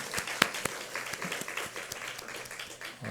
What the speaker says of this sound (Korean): 우리 찬송 가운데 임하신 하나님께 감사와 영광의 박수 올려드립니다.